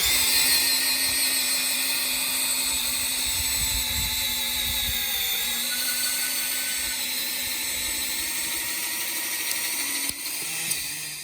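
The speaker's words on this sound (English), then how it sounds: "Just let the auger dig its way through the metal in its own speed" An auger bit slowly drills through a metal farm gate, producing a loud, steady high-pitched whine with a constant motor drone close by, running unbroken before a brief clunk near the end.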